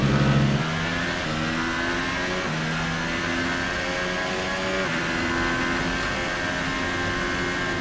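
A Formula 1 car in the racing game F1 2018 at Hockenheim drones loudly and steadily, its engine pitch stepping down with several gear shifts before holding a sustained high-revving whine.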